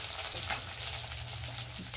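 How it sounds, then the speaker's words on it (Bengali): Garlic sizzles in hot oil in a rural Bengali kitchen, a close, steady crackling hiss with tiny pops running through the whole brief moment, no voices over it. "রসুনটা একটু ভেজে নেব"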